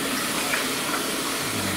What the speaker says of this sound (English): I rinse them with warm water